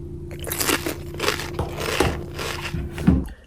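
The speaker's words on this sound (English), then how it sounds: "We have our toast made and it's time to dig in." Crunchy bites into buttered toast at a healthy lunch, several crisp chewing crunches spaced through the clip, close to the mic, with a faint steady background hum.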